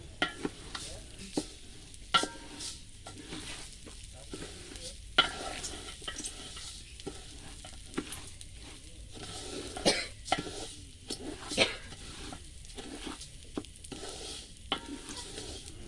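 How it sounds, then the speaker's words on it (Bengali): Raw rice being stirred and lightly fried in a large cooking pot ahead of adding meat for a shared family meal. A soft, continuous scraping and rustle comes with sharp intermittent clinks and knocks of the spoon against the pot. A cough is heard nearby. "এবার ভালোভাবে নাড়িয়ে চাড়িয়ে চালগুলো একটু ভাজা ভাজা করে নিবে"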